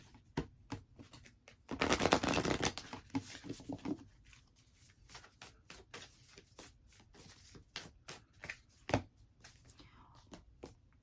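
Tarot timing cards being shuffled by hand, a quick run of soft papery riffles and taps with one louder burst of shuffling, close and quiet, with faint talking now and then.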